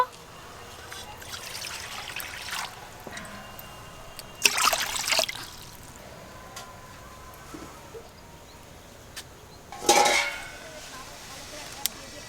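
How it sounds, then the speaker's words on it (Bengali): Water poured into a kadai in a home kitchen, heard as a few short splashing pours with faint trickling and pan sounds in between, fairly quiet overall. "আবার কড়াই জল দিয়ে দেব।"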